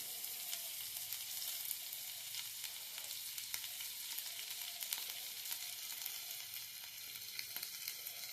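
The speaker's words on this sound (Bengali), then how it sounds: "কিছুটা আমুলের বাটার দিয়ে দেব।" Amul butter sizzles steadily in a hot tawa, a dense, close crackling and hissing that continues evenly throughout with occasional sharper pops, no talking.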